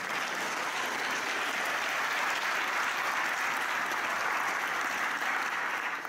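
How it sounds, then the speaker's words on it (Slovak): Sustained applause from the audience at a Christmas concert in Teplička nad Váhom, a dense, even wash of clapping from a crowd that holds steady for several seconds before easing off. "chcel by som poprosiť jeden silný potlesk pre vás samých"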